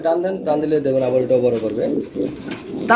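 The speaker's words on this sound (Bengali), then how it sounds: "আমরা এখানে কি কবুতর দেখতে পাচ্ছি ভাই পেন্সিল পোটার কবুতর" Pencil pouter pigeons give low, rolling coos close by while someone talks over them throughout.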